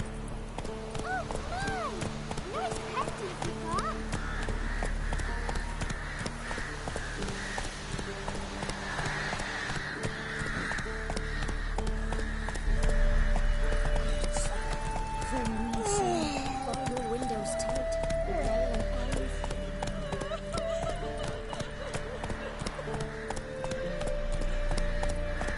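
Horse hooves clip-clopping at a run in The Witcher 3, a steady rhythmic beat carried under game music and sound effects, with a brief whinny.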